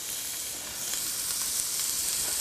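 Chopped onions and garlic hit a hot pan and sizzle steadily, a close, even frying hiss that holds at a constant level throughout with no talking.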